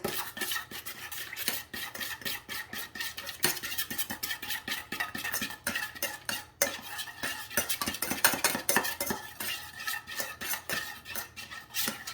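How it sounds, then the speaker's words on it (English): A spoon mixing honey mustard dressing in a bowl, rapid repeated clinking and scraping strokes in an uneven rhythm, close and fairly loud throughout with no talk. "Let's grab a spoon here. We're gonna give this a nice mix."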